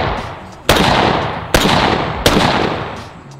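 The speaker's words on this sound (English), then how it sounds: "It's an M14 mini. I think it's kind of loud. That's a loud gun." An M14 mini rifle fires three loud, close gunshots spaced roughly eight tenths of a second apart, each sharp crack trailing off into a long outdoor echo.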